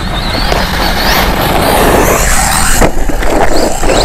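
Rlaarlo Omni-Terminator RC car jumping and landing outdoors, a steady loud motor whine and tire rumble throughout with a sharp thump of the landing near the end.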